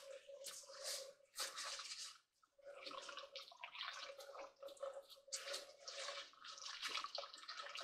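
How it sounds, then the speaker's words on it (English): Rice being washed in water in a home kitchen for fried rice, with splashing, swishing and dripping in uneven bursts, faint and close, a brief pause midway. "I got to wash the rice."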